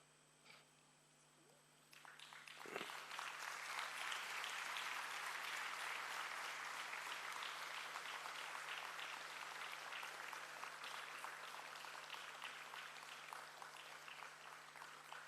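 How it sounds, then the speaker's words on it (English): At a BTEC HND convocation, graduates break into a broad round of applause after a quiet start. It builds quickly into sustained, even clapping from a large hall and holds to the end. "give your best round of applause to all your parents, well-wishers, and also to the lecturers"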